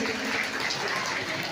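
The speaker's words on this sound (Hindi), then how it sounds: "सबसे पहले तो मैं चाहूँगी कि आज जो महिलाओं की संख्या है उसके लिए आप एक बार ज़ोरदार ताली बजाएं" An audience at a BSP political rally gives steady, dense applause, a continuous wash of clapping throughout.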